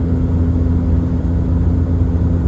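A heavy truck engine picks up speed on a steep downhill dip in the Adelaide Hills, a steady loud low rumble with a constant drone throughout, close and alone without voices.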